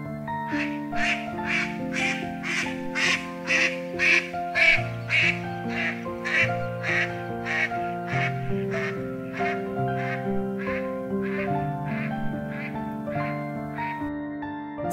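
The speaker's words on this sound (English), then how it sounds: "Spot-billed duck." Repeated nasal quacks of a spot-billed duck in a steady series, fairly loud, over a sustained musical background drone; no talking.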